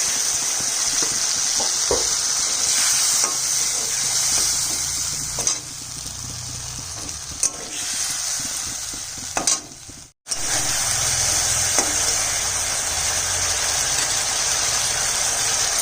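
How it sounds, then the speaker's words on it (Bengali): Potatoes frying in oil with spices added for a light katla fish curry with stalks, giving a loud, steady sizzle throughout with a few stirring knocks and a brief drop near the middle. "এখানে আলুটা ভাজা হয়ে গেছে, মশলাটা দিয়ে দিই।"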